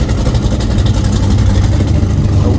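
Engine of a Willys pickup at a car show cruise night in Morro Bay, a steady low rumble running continuously and fairly loud, with no clear pauses or talk over it.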